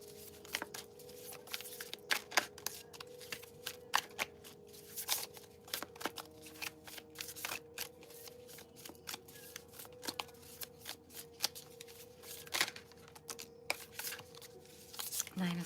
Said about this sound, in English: I just want to make sure they're really well shuffled